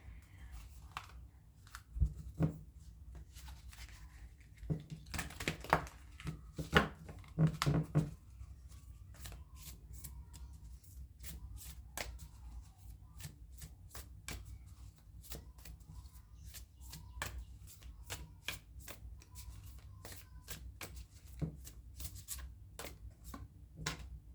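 Oracle cards being shuffled over and over, a steady run of crisp riffling and flicking bursts at close range, louder near the start and then settling into a continuous soft rhythm with no talking.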